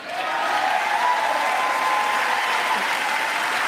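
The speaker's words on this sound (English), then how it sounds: "You got a lot of applause in the room" An audience in a chamber applauds during a political speech, a sustained wash of many hands clapping at an even level from start to finish, with no words spoken over it.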